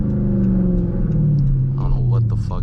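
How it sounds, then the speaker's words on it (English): A straight-piped 2013 Dodge Durango R/T engine revs loudly and steadily up close, its deep exhaust rumble rising in pitch, while someone talks over it throughout. "car sounds fast, but it's going nowhere, bro"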